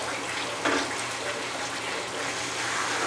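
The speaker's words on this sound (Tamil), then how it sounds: "மொத பால் ஊற்றிட்டேன்" First-extract milk poured into a nendran banana payasam, a steady, continuous liquid pour with a soft splashy hiss from start to finish and one brief louder splash early on.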